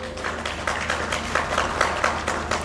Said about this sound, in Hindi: अब मज़ा आ रहा है तालियों में।